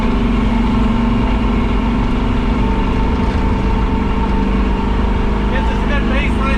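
A 454 V8 engine in a hearse runs steadily at a raised, revved idle, a constant low rumble filling the clip with faint talk underneath.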